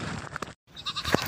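Goats at home bleating close by, a couple of short nasal cries with a brief pause between them.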